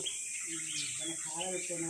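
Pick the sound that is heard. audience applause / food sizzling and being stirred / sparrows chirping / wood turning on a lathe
sparrows chirping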